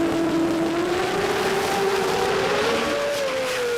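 A drag racing car roars through a pass at the Garrett Adelaide Jamboree, a loud, sustained engine note climbing steadily in pitch for several seconds as it accelerates, close and dominant with no talk over it.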